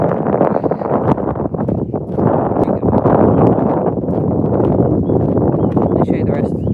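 Strong wind buffets the microphone in a constant low roar, gusting unevenly throughout at close range.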